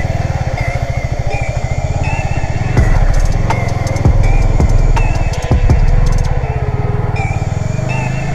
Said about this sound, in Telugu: స్పోర్ట్స్ బైక్లో ఆఫ్ రోడ్ చేయడం అంటే మా విషయం కాదు